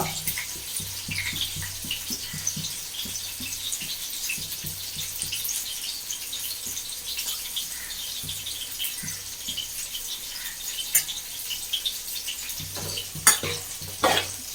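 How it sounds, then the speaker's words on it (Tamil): Shrimp scattered into a hot pan fry with steady sizzling and scattered stirring clinks, fairly close, with a few sharper scrapes near the end. "பாருங்க இறால் அப்படியே மலைச்சாரல் மாதிரி போடுறோம்"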